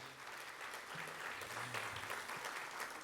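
An audience at a 2025 school district State of the District event applauds steadily, a dense wash of clapping from many hands that holds an even level throughout.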